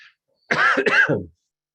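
A single hoarse throat-clearing cough from someone recovering from a cold, short and close up, in a double burst with quiet on either side.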